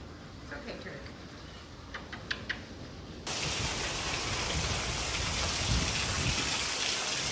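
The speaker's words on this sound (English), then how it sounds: "This is some crazy rain." Heavy rain pours down outside with a steady, dense hiss that suddenly swells louder and fuller partway through, like a torrent streaming off a roof, with a few faint knocks in the quieter first half.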